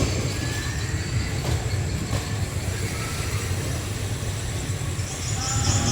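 Local passenger train 464, a locomotive pulling eight cars, rolling to a stop: a continuous rumble of wheels on rails with faint squeals and clatter at close range, no voices.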